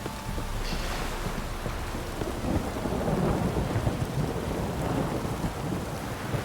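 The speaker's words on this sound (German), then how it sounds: "Wenn es nicht bald zu regnen aufhört" Steady rain pours down in The Witcher 3, with low rolling thunder rumbling beneath it, a dense continuous wash that swells slightly in the middle.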